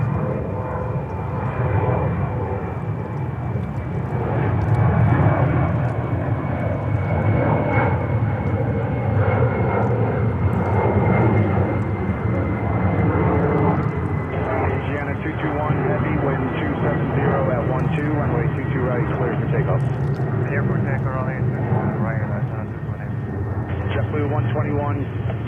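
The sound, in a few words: Boeing 777 landing at JFK airport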